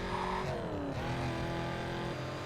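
A Porsche Carrera GT race car engine roars steadily in Need for Speed: Carbon, with a brief shift in pitch as it changes gear mid-clip, a continuous loud engine drone with no talking.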